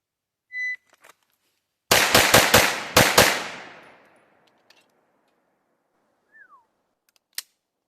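A Springfield Echelon pistol fitted with a Sharps metal grip fires six rapid, sharp, loud shots at targets on a range. The reports fade into quiet, with a few faint clicks and a distant ping afterward.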